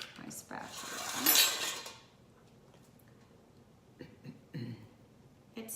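Spatula scraping the sides of a mixing bowl of zucchini, carrot and banana cake batter, a close, busy rasping for about two seconds, then sparse light clinks and taps.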